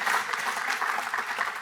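An audience at a press conference claps in a dense, steady round of applause that runs unbroken for a moment at moderate loudness.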